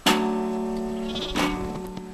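A goat bleating: one long, wavering, nasal bleat, close and loud, followed by a shorter second call.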